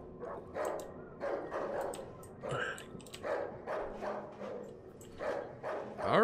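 Repeated dog barks from the horror video game Darkwood, a steady series of sharp woofs about every half second, fairly close and loud, with a louder bark right at the end.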